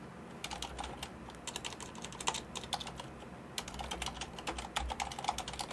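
Quick, uneven keystrokes on a computer keyboard while notes go into a spreadsheet, arriving in bursts with short pauses, close and moderately quiet.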